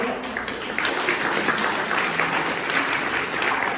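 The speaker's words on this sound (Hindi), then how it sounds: "ताली बजाओ, जोर से बजाओ।" Audience clapping at a talk, a dense, steady wash of many hands at fairly close range lasting the whole stretch with no clear individual claps standing out.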